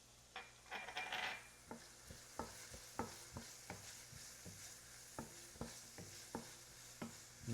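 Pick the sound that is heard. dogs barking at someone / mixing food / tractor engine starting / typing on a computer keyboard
mixing food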